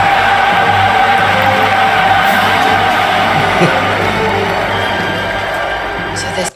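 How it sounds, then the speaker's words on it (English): Thunderous applause and cheering from a large crowd in a Star Wars film scene, a dense steady roar of clapping that holds loud throughout before cutting off abruptly at the end. "This is how liberty dies. With thunderous applause."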